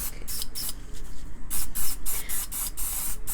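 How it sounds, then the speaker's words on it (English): Short hissing bursts from an Apple Garde protectant spray can onto a Louis Vuitton leather bag, around eight in quick succession with brief pauses between them. Close and fairly loud, with no talking. "I'm going to be spraying the back of the bag as well"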